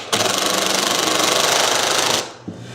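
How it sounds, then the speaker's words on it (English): A power drill drives screws in one continuous, loud mechanical whir lasting about two seconds. A short click and a brief second buzz follow. "put a couple screws in"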